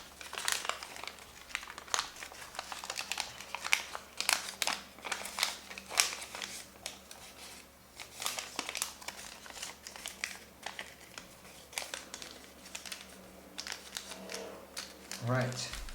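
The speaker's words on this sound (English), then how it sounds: "Now you have to make this fold here, and unfold, and make an open sink." A sheet of paper being folded into an origami swan, an open sink fold, produces repeated close crinkling and crisp creasing rustles in irregular bursts, with a person talking over the handling.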